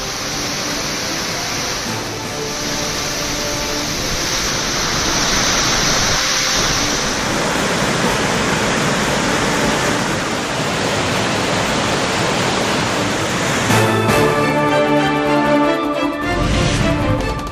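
Floodwater roars over Hogenakkal falls on the Kaveri river in a loud, continuous rushing wash that never lets up.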